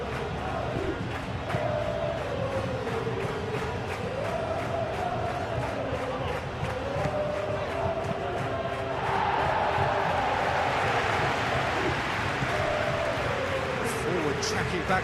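Stadium crowd cheering in the football game Football Life 26, a steady broad roar that swells louder partway through, heard under a commentator's voice throughout.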